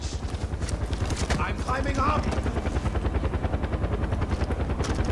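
A helicopter in the video game Far Cry 4 thumps with steady rapid rotor pulses throughout, loud and close, with someone talking over it.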